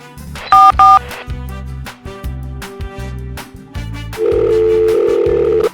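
A telephone call being placed, with short beeping tones followed by a repeating ring-back pattern and a sustained tone near the end, clear and close without speech.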